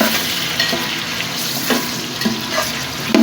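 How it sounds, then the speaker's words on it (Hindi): Chicken frying in a pot for a large batch of chicken pulao, a loud, steady sizzle close by, broken by a few light scraping stirs and clinks, with no talking. "अब चिकन को शामिल कर देते हैं। चिकन भून लेते हैं।"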